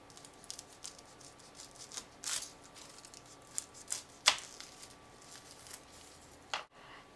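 Knife slicing the top off a garlic bulb on a cutting board, a few soft crisp cuts and taps up close, quiet, with no voices.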